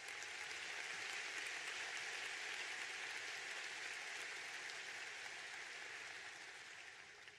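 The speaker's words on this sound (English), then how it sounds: "It deserves a big round of applause." At a university commencement ceremony, a large audience applauds continuously, a dense, even roar of many hands that tapers slightly at the end.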